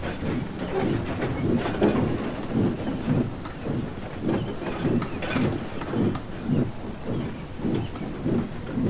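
A steam train running on rails gives a rhythmic chuffing and clatter of regular pulses that continues steadily throughout at moderate loudness, with a faint hiss of steam above it.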